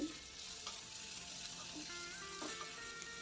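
Small pieces of fish sauté in a pan with a continuous close sizzle and occasional scraping stirs and faint clinks.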